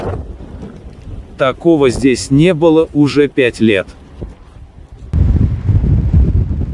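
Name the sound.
hurricane wind and blizzard in Chukotka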